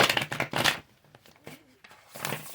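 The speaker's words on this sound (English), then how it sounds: "We're going to shuffle one more time" Tarot cards being shuffled by hand, several quick riffling bursts separated by short pauses, close and fairly soft.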